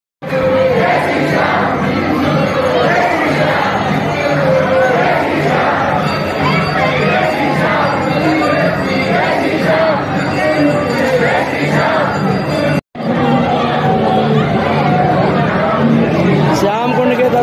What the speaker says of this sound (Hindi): अब हम चल रहे हैं बाबा श्याम के दर्शन के लिए और इतनी भीड़ है